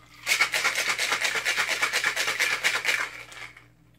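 An Electric Blue Martini with pineapple juice is shaken with ice in a cocktail shaker, a fast rhythmic rattle of about fifteen strokes lasting three seconds, close and loud, then stopping.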